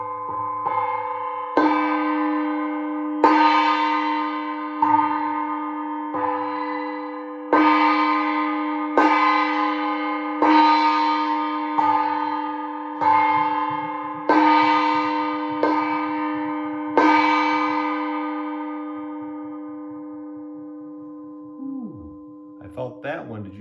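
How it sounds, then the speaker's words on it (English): A gong is struck about a dozen times at a slow, even pace, each hit ringing out and overlapping the last, with a faint voice murmuring underneath at moments before the ringing fades. "let's play the gong."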